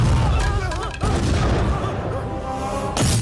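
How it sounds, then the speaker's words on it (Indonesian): An explosion and gunfire in a mafia action film produce dense, loud booming and crashing with a rumbling low end, mixed under a voice and other soundtrack layers, ending in a fresh burst. "Akan tetapi Arun selamat dari ledakan tersebut."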